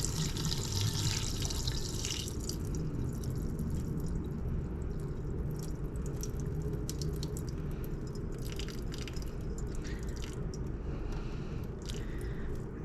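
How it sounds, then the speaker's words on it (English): Rinse water from washed rice pours steadily into a kitchen sink, a continuous close splashing and trickling with small drips, running unbroken throughout with no talking. "just going to pour it out here."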